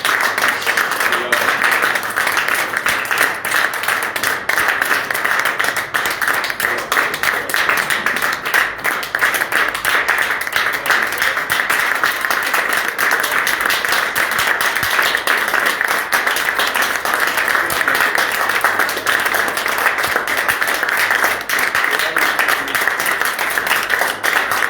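Congregation applauding and cheering in a church, a steady dense wash of clapping that holds for the whole stretch at an even, loud level.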